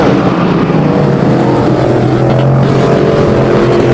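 Race cars roar around the track in the final laps as leader Brandon Louts pulls away, a dense, continuous engine drone filling the air without pause.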